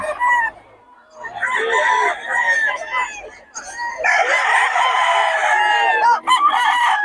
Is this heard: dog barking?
no